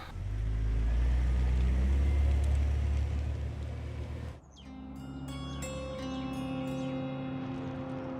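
A car engine rumbles loudly and steadily, then cuts off abruptly, leaving quieter background tones and chirps.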